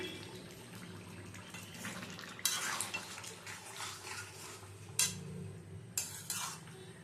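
A vegetable dish is stirred in a pan after adding cumin powder and ghee, with soft continuous scraping and a few sharper clinks of a utensil against the pan at close range and no speech.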